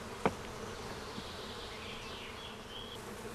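Honey bees shaken onto a plastic sheet, a faint continuous buzzing swarm with one sharp knock near the start.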